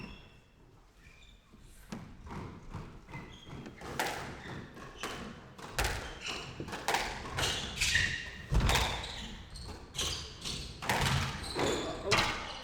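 A squash ball is struck during a women's professional final, sharp hits and wall thuds coming in quick irregular rallies over a hall's ambient murmur, with a commentator talking throughout.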